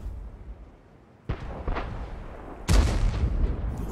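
Tank cannon shots in World of Tanks, with an ISU-152 on the Malinovka map: two heavy booming blasts in quick succession, the second louder and closer with a long rumbling tail.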